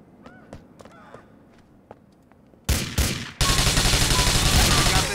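Gunfire in GTA IV: The Ballad of Gay Tony, a few sharp shots at first, then a loud dense burst of rapid automatic fire that continues steadily to the end.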